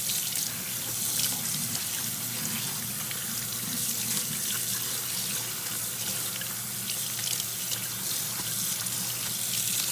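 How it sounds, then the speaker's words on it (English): Running tap water pours steadily into a sink while collard greens are rinsed, a continuous close splashing wash with no talking. "Place these back in the water, rinse them again."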